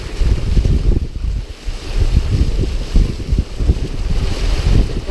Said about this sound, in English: Getting gusts over 20 knots,